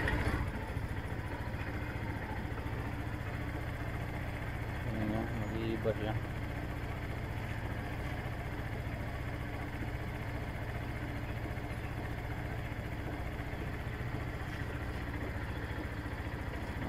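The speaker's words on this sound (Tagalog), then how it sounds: "iinit na yung makina" Suzuki Samurai engine idling steadily after an ECU reset, a low continuous mid-pitched hum that holds even for the whole stretch while someone talks over it.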